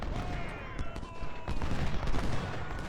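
Musket volleys and scattered rifle fire crackle in a Civil War battle in the strategy game Ultimate General: Civil War, a dense, continuous fusillade of overlapping shots at moderate distance with no pauses.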